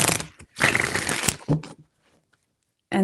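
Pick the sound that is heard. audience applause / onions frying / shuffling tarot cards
shuffling tarot cards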